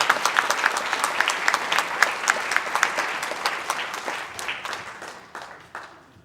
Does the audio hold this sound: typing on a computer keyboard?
no